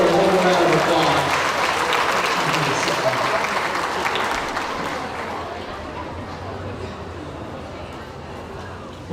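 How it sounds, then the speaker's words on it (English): Audience applause at the Logan County Fair royalty contest, a steady wash of clapping that starts loud and slowly thins out over several seconds. "Folks, give her a whole round of applause."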